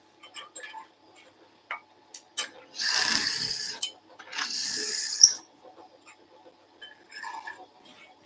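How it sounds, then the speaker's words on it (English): A drill bores a hole into a turned acorn box of wood held on a lathe, giving two hissing, grinding bursts of a few seconds each separated by quieter clicks and handling noise. "Drill our hole."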